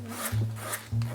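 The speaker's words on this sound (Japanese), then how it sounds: "で最後にサンドペーパーをかけていきます。" Sandpaper rubbed by hand over a solid leather shoe heel during bespoke shoemaking, giving soft, close rasping strokes in a short back-and-forth rhythm.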